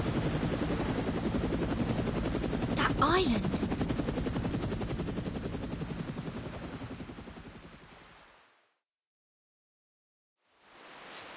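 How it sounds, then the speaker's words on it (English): A Foundation helicopter flying in the video game Reverse: 1999, a steady loud rotor chop filling most of the clip before cutting to silence and briefly returning, with someone speaking over it. "That's a Foundation helicopter."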